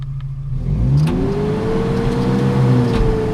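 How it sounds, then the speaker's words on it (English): A Chevy Blazer engine revs up loud and close after a cold start. The pitch climbs, holds in a strained, uneven rumble, then sags and surges again with no voices. "Give her some revs."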